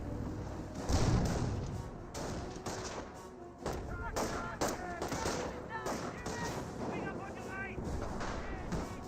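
Gunfire and artillery in the World War II strategy game Company of Heroes, with dense bursts of shots and heavy booming thuds throughout, partly under a voice talking.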